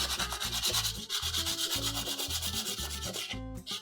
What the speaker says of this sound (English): Now I'm gonna get my coarse sandpaper out and get that corner out as fast as I can.